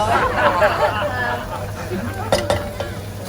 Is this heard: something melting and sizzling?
yes